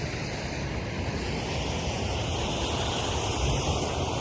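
A river in Glen Etive rushes steadily over rocks, a loud, continuous broadband roar close to the listener with a little wind noise mixed in and no voices.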